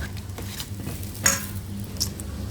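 Fish being stirred in a pan during cooking, with a faint sizzle and soft scraping strokes, plus a couple of light metallic utensil clinks, close and without talk.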